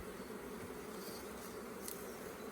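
Honey bees hum in a dense, continuous drone at an open hive during a spring colony split, loud and close with no pauses.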